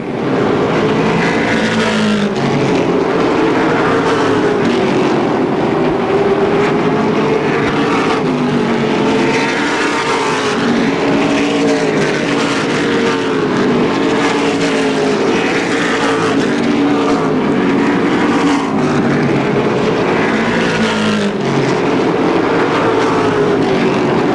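Several race cars roar around the Motordrome Speedway oval in 2004, their engines blending into a loud, continuous drone whose pitch rises and falls as the cars circle and pass, with no voices over it.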